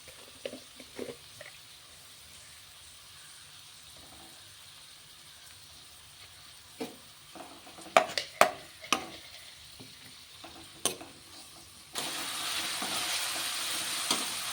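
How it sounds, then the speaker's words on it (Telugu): Thinly sliced onions fry in oil with salt for an egg and potato kurma, with sparse stirring clicks and scrapes before a broad, hissing sizzle swells near the end. "ఈ బాగా ఎర్రగా వచ్చేంత వరకు ఫ్రై చేసుకుందాం"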